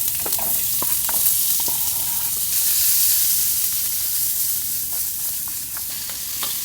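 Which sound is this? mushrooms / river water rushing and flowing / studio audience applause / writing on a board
mushrooms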